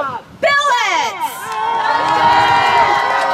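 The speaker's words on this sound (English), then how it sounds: "Big cheer for Jacob Billets" Crowd at a Vikings basketball game erupts in a loud cheer and whoops for a player checking in, swelling quickly and holding as a sustained roar.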